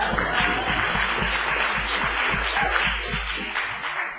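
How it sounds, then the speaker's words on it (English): Applause at a city council meeting, a dense, continuous patter of clapping from the room, moderately loud and steady throughout the clip with no talking over it. "Please don't charge me for the applause."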